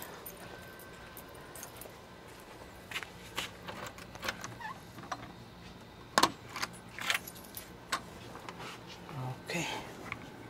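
Keys jangling at a house door at night after a walk, with repeated metallic clinks and rattles in irregular bursts over about ten seconds, up close, while someone talks between them.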